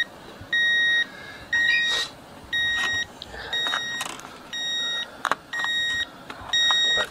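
A Geiger counter held near a radiation source gives loud electronic beeps, about seven evenly spaced pulses roughly once a second, with light handling clatter between them.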